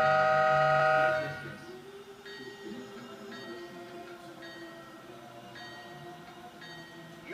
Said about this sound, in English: When you sound the horn, the bell will ring.